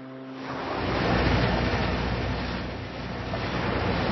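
Ocean waves surging onto the shore, a broad roaring wash that swells in during the first second and then holds steady and loud with soft rises and falls.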